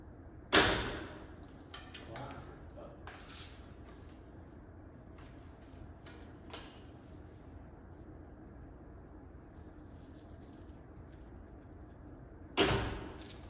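Two sharp, loud snaps of an archer's bow releasing an arrow, one near the start and another near the end, separated by a long quiet stretch with faint rustling and small handling clicks.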